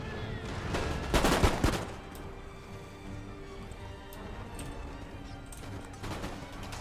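Musket volley in Empire Total War: a burst of many muskets crackling together in a ragged wave, moderately distant, followed by quieter scattered shots over a low battlefield din, then a smaller second volley near the end.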